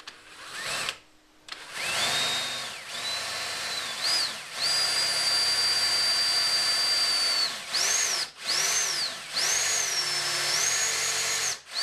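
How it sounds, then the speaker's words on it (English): A power drill with a 5 millimeter bit whines loudly boring into wood in several sustained bursts, its pitch sliding up and down as it spins up, bites and slows, with brief pauses between runs. "you have to drill in a hole for these first"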